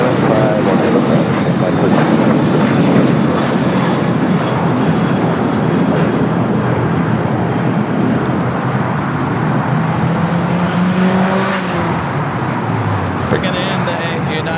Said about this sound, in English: Bringing in the United Dreamliner over there to Terminal 7.